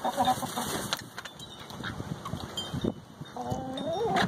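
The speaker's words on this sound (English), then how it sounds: "We'll go back to the chickens." Chickens cluck and murmur nearby in a barnyard, with a few sharper calls among other farm-animal noises.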